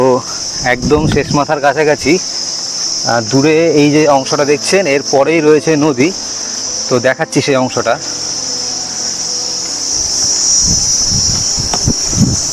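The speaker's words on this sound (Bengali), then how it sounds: "আওয়াজটা শুনুন ঝিঝি পোকার।" Crickets in the Sundarbans forest keep up a steady, high, continuous chirring in the background while someone talks over it, then carry on alone near the end.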